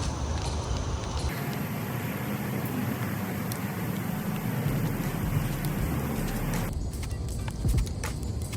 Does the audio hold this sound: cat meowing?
no